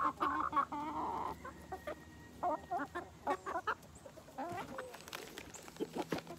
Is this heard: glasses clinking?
no